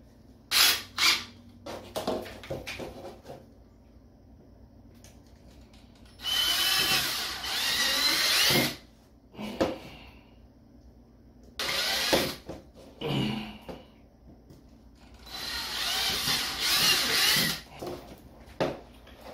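A power drill bores holes for wires in a water tank level meter build, running in several separate bursts of whining drilling with quiet pauses between, fairly close and alone.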